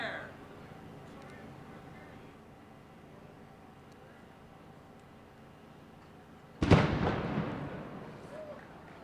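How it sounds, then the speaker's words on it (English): Ceremonial cannon fired once by a historical artillery battery at an outdoor opening event, a single loud blast with a long rumbling decay after a stretch of quiet crowd ambience and a brief shouted command. "On our captain's order, we fired our first shot today."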